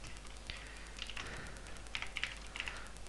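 Quiet keystrokes on a computer keyboard while entering text, a brief run of light irregular taps and clicks over faint background hum.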